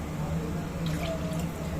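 Water pours steadily into a pot of basmati rice and lima beans, a continuous close splashing and trickling rush lasting the whole moment with no talking.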